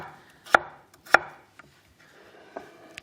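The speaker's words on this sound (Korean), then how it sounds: "지금 제가 썰어서 물에 담그고 있잖아요" A kitchen knife chopping raw potato on a cutting board, two sharp close strokes followed by a few lighter taps, with quiet pauses between and no talking.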